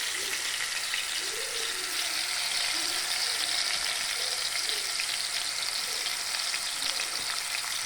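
A large batch of chicken deep frying in hot oil, a dense, even bubbling sizzle that stays close and constant throughout, with faint background murmurs.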